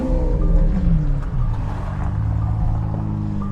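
A Lamborghini Aventador engine runs with a deep, loud rumbling idle that stays steady and close throughout, with no voices heard.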